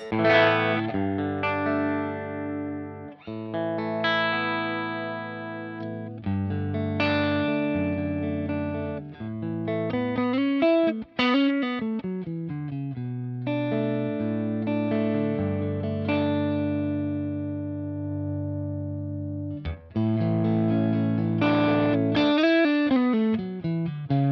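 Distorted electric guitar through a Boss Katana amp with the clean channel's gain cranked plays chords and single-note bends, loud and saturated, with a brief gap before a final chord.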